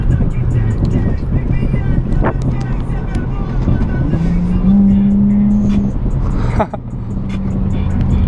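An Infiniti G35 sedan accelerates hard on a bumpy road, its engine drone rising in pitch under steady wind and road roar, heard from inside the car with a brief dip near the end.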